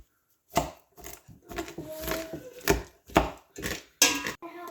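Blueberries mixed with lime juice being crushed in a pot for jam, a series of about ten dull, close thumps and squishes in an uneven rhythm with short pauses.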